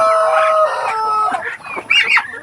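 Rhode Island chickens on a farm make loud, close clucks and rising squawking calls, with one bird crowing briefly, in a short lively burst.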